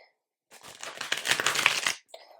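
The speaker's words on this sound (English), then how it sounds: "Let's riffle shuffle it." A linen-finish tarot deck being riffle shuffled, one quick crisp fluttering burst of cards riffling together, close and distinct, followed by a brief soft tap of the cards settling.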